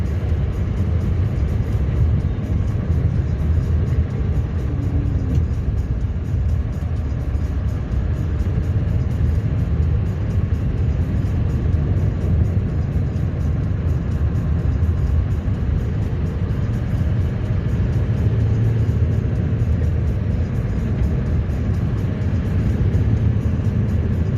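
Snow plow truck engine running steadily at close range, a continuous loud low rumble with no clear breaks while the automatic clutch shifts between gears.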